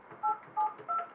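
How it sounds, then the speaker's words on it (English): DTMF touch-tone dialing of a telephone number: three short, clear beeps spaced evenly about a third of a second apart, fairly quiet, with no talk. "Would you dial this number and we'll leave it on Andrew's answering machine"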